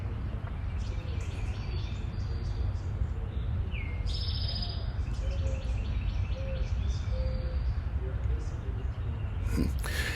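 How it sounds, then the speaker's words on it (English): Birds chirp and tweet outdoors in a quiet rural spot, several short high calls scattered throughout over steady low background noise, with a person talking nearby. "You hear all the birds chirping and stuff."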